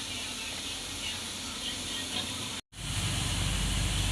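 Fried gulab jamun slipped into hot sugar syrup give a steady, close hiss and soft fizz, broken by a brief silent gap, then continuing a little fuller and louder.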